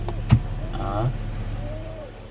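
An electric tilt-and-telescopic steering column motor on a 2004 Toyota Harrier Airs 3.0 gives a short, close whirring hum as it adjusts the wheel, followed by a fainter rising motor tone, with a soft thump at the start.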